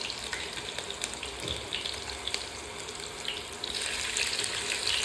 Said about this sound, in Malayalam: ഇഞ്ചിക്കകത്ത് വെള്ളമുണ്ട്, അതാ ഇങ്ങനെ കിടന്ന് കളിക്കുന്നു